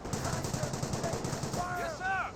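Gunfire crackles through a Company of Heroes battle, a rapid run of bursts fired in close succession, moderately loud, with someone talking over it.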